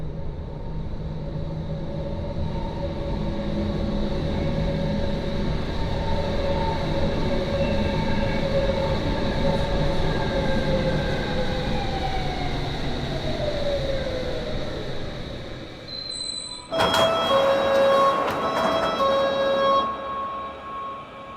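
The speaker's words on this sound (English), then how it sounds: "As I hear a train coming." A train passing in the video game Train Sim Classic on a British line, a loud steady rumble and rolling wheel noise with rising tones, ending in a burst of bright squealing and horn-like tones.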